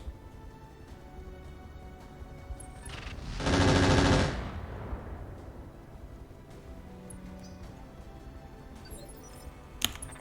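Heavy weapon fire from mechs in the Roguetech battle game: one loud, dense roaring burst lasting about a second, trailing into a fading rumble, with a sharp click near the end over quiet background.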